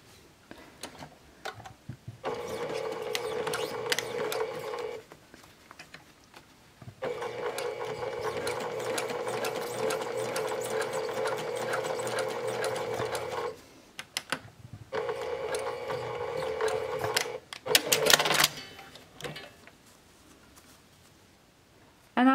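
A sewing machine stitches rag doll bloomers in steady whirring bursts of several seconds each, with short pauses between runs and a quick final burst, close and clear with no talking.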